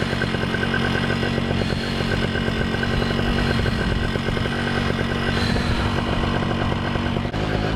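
A paramotor engine and propeller run hard on throttle close by, a loud, unbroken buzzing roar lasting throughout with a brief dip near the end.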